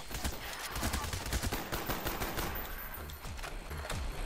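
Rapid video-game gunfire in a dense, continuous burst of shots and automatic fire, loud and unbroken throughout, without talk.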